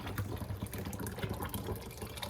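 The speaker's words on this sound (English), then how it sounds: "That's gonna help me drain, you know, to take all the water out." Water drains through a cloth from grated cassava starch into a sink, a continuous soft trickling and splashing that holds steady throughout without any voices.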